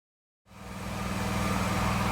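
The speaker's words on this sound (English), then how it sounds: "excuse my loud generator over there" A loud generator starts up after a short silence and runs steadily close by, a dense mechanical roar with a low throbbing hum that holds constant to the end.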